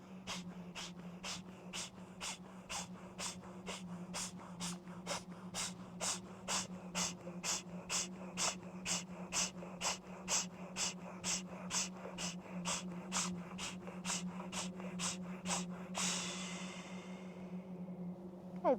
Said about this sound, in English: Inhale to fill the lungs up completely. Then breathe out halfway